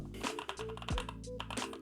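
Keys on a computer keyboard used for a development setup clatter in quick, irregular taps close by, with a deeper thump partway through, and no voice is heard.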